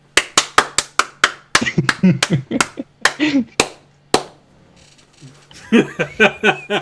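Sharp, distinct claps ring out in an even rhythm, about a dozen near and loud, mixed with laughter and chuckling, then a pause before a quicker burst of clapping with chatter.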